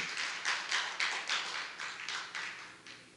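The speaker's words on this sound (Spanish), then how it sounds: "denle el aplauso con ganas, hombre." Church congregation applauding during a sermon, a steady wash of many hands clapping with rhythmic surges, fairly close and loud with no talk over it.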